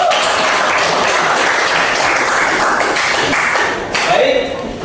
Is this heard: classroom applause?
yes